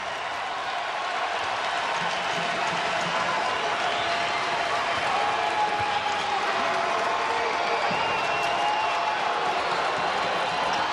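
A large crowd roars and applauds at a college basketball conference opener between SJU and Richmond, a continuous dense wash of cheering and clapping filling the arena, with faint speech mixed underneath.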